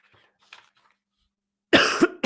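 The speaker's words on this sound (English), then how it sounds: "I'm sorry about the cough, folks." Faint rustling, then two sharp, close coughs from someone who is ill, in quick succession near the end, followed by the start of a third.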